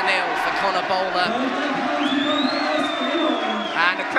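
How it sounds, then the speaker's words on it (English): Darts hall crowd at a Steel City Darts match roars and cheers with whoops, a dense, steady wall of voices close around and continuing for the whole stretch. "And the crowd is going wild."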